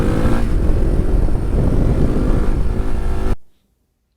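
A Suzuki DR 350 enduro motorcycle engine roars loud and close while the bike wheelies through mud on a smooth rear tyre, sustained and rough, then cuts off abruptly.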